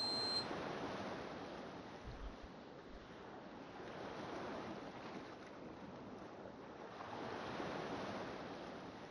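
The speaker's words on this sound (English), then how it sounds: "Well, that's a nice effect with the water." Soft, steady water wave sounds from the game Radiant Chain wash continuously, a faint, broad rushing swell that rises and falls gently, with no talk over it.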